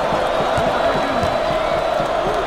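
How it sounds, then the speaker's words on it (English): Arena crowd in the NCAA Basketball 10 video game, St. John's vs Georgetown, chanting as a steady roar with rhythmic pulses and sneaker squeaks, loud and continuous throughout. "The crowd starting to chant."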